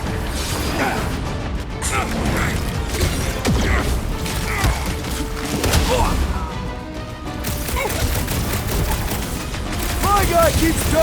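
Rapid gunfire and mechanical clanks in a busy Guardians of the Galaxy game battle, dense layered shots and impacts mixed with game effects and voices throughout.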